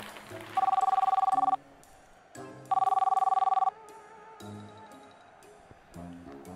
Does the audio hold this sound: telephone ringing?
yes